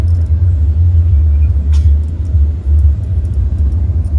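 Heavy low engine rumble in street traffic from a motorized tricycle close by, steady and loud throughout with a brief clatter midway.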